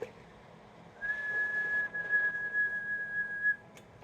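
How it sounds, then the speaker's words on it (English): A single steady, high-pitched whistle held for a few seconds, heard through an RCI 99N4 radio with a hiss underneath. "Give it a whistle."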